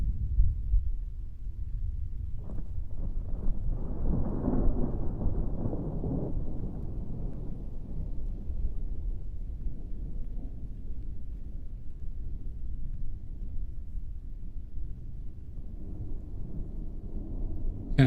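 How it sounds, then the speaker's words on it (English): Deep thunder rumbles and rolls through a storm, with a broad low roar swelling around the middle and lingering steadily to the end, heard alone without voices. "Can I hear the thunder? I absolutely can, Richards."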